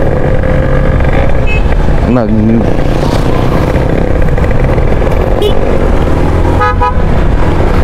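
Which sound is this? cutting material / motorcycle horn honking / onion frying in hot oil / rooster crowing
motorcycle horn honking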